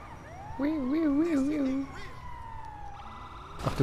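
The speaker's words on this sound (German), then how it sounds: "Ich höre schon die Sirenen." A police siren in the video game GTA Online warbles in a rapid wailing rise and fall for about a second, then fades, leaving engine-like noise and a voice.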